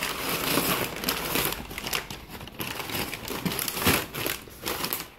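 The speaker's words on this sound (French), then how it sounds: "avec tous les bruits de papier" Packing paper crinkles and rustles close by in busy, irregular bursts during the unboxing of an album, with sharp crackling handling sounds throughout and no talking.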